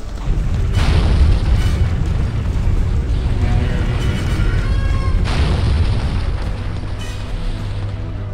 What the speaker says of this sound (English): It's raining boulders!